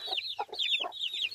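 A bantam hen clucks on a small farm, giving a steady run of repeated, fairly close, high clucking calls with brief gaps between them.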